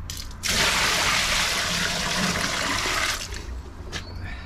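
Water from a bucket gushes into a blocked, backed-up drain in one loud rushing pour lasting about three seconds, then drops to a faint trickle.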